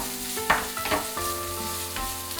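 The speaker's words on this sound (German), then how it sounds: "Ein Schuss Öl in die heiße Pfanne. Lochzwiebeln mit wenig Pfeffer anschwitzen." Spring onions with a little pepper sizzle in hot oil in a pan, a steady close frying hiss broken by a few scraping stirs with a utensil.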